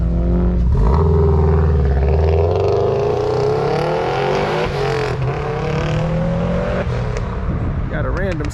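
A Subaru STI pulls away from a summer car cruise meet, its engine revving loud and close with rising, shifting tones before it fades, as voices talk over it.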